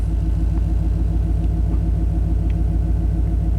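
A 1991 Chevy K1500 pickup engine idles steadily up close, a loud, even low rumble with a regular pulsing beat and no voices.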